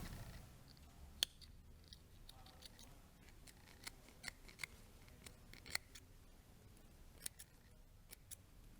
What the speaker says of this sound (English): we can actually snip through the layers. So we're actually cutting through the welt as well as the outer fabric